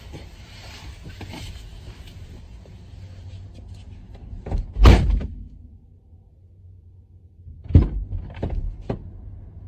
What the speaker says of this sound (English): Stop slamming my motherfucking door.